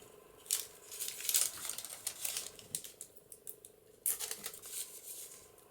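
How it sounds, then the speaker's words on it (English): Homemade vintage paper tape torn by hand at a papercraft desk, giving two sharp ripping bursts with crisp crackling rustle in between, close and fairly loud with no voices. "I've got some of this homemade vintage tape that I might use. Now I'm just going to tear that."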